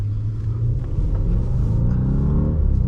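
A 2015 Audi S8 with a 4.0T engine rumbles deeply in sport mode from inside the cabin, a steady low growl that builds and rises slightly in pitch toward the end.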